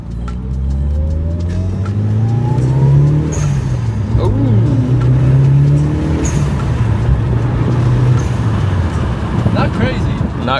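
A Mitsubishi Evo engine revs hard and loud up close, pitch climbing and falling through several throttle blips and holds over a steady rumbling idle, with people talking underneath.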